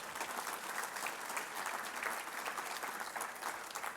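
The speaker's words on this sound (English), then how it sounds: "That, I think, deserves some applause." Steady audience applause at a Border Patrol Foundation recognition dinner, a dense, even patter of many hands clapping alone for about four seconds at moderate level.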